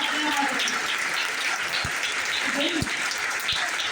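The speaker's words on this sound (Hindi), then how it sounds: "तालियां बजाओ" An audience claps at a business plan meeting in Dombivli, Mumbai, a steady crackling applause filling the room while someone speaks over it.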